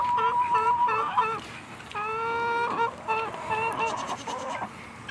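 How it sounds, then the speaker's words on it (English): A goat bleats several times in quick succession, close and fairly loud, each wavering cry separated by short pauses, with faint background farmyard noise and no talking. "This goat right here is in Percy Jackson."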